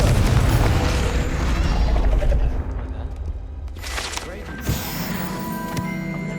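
Confringo fire spell in the video game Hogwarts Legacy, a loud booming blast with crackling burst noise that fades into lower rumble, followed by a sharp pop and lingering magical tones.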